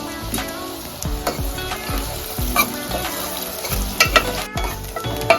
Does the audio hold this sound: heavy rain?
no